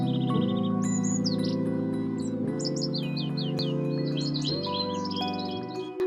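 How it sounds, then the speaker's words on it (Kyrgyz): Small birds chirp and tweet in quick repeated bursts over a steady, sustained musical chord backdrop, clear and moderately loud throughout. "Куштар сайрайт."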